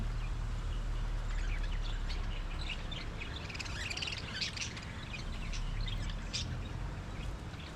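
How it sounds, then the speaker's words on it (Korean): Parrots squawk and chirp at a distance, repeatedly and irregularly, in an outdoor cafe seating area in Samut Sakhon, Thailand, over a steady low hum of background noise. "앵무새도 키우고 있네요"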